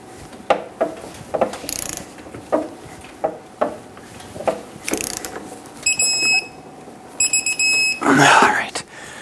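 A ratchet torque wrench clicks in short repeated bursts while tightening the Pitman arm nut on a 2007-2014 Chevrolet Silverado 2500 HD, close and sharp, with a few faint beeps and a louder final effort near the end.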